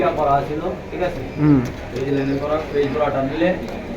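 Pigeons at a sale collection give low, soft cooing calls, heard close by under and between people talking.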